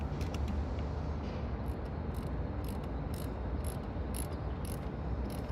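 A ratchet tightening car battery terminals gives a steady run of rapid, fine clicks, close and fairly faint over a constant background hum, with no talk.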